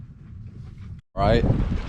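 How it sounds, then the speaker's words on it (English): Wind buffets a microphone with low rumbling gusts on a sailboat, then briefly cuts out before a person speaks over more rumbling wind noise. "Excuse the wind, it's a little windy out here."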